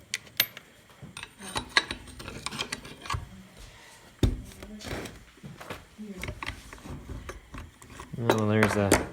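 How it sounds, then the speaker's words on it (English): Small metal ball bearings fall out of a Briggs & Stratton tiller motor during a teardown, making scattered light clinks and rattles against metal and a hard surface, with handling clatter and a brief burst of other noise near the end. "Oh no, dropping my bearings."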